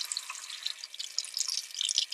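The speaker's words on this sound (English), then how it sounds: "I'm going to put it underneath the water" Tap water running into a sink while a paintbrush is rinsed under it, a steady bright splashing trickle with small drips, close and fairly quiet, with no voices.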